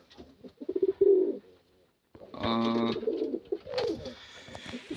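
Pigeons, a brown female and a black male, coo at their nest close by in low, throaty, rolling bursts, one call after another, with a brief pause between and a single short spoken syllable.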